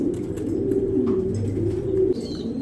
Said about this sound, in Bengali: এক piece single Maksi pint mail কবুতর এটা রেস করা একটা কবুতর